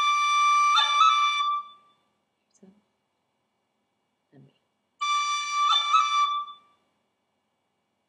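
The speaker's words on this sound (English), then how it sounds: "Now we're going to do a high D roll." Two short bursts of a high D roll on a tin whistle, each a bright sustained note broken by quick finger cuts, separated by a pause with a brief spoken voice and a faint noise between them.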